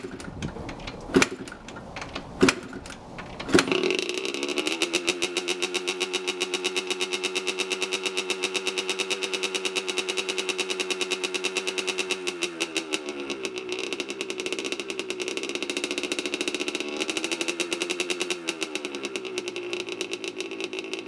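Kawasaki KLX140 dirt bike with a new silencer, starting after a few sharp attempts and then running loud and close, its engine revving up and dropping back several times with a rapid, even rattle.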